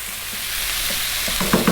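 Napa cabbage stir-fries over high heat with black pepper, a continuous close sizzle with faint scraping and tossing toward the end, and no voices.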